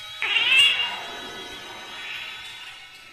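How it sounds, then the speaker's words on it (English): A black cat in The Last Door horror adventure game lets out one long, loud drawn-out meow that starts abruptly and slowly trails off, heard alone without talk. "A black cat is staring at me."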